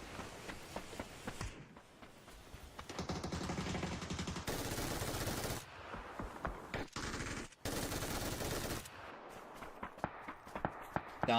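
Rapid automatic gunfire bursts in a competitive shooter match, loud and dense, coming in long stretches broken by short pauses, with other game sounds in the gaps.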